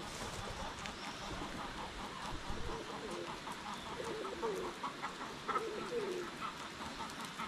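Chickens and young guinea fowl on a small Filipino farm make a steady chorus of clucks, chirps and short calls, overlapping and continuous at moderate distance, with no voices in the foreground.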